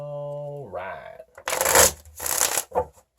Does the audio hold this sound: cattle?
no